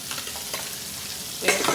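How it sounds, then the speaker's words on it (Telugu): Ginger garlic paste frying in hot oil with fried onions for a spicy small-fish curry, stirred with a ladle: a steady soft sizzle with a few scraping stirs and a louder stir burst near the end. "అల్లం వెల్లుల్లి పేస్ట్ కూడా ఫ్రై చేసుకోవాలి. ఇలా గంటతో తిప్పుకుంటూ ఫ్రై చేసుకోవాలి."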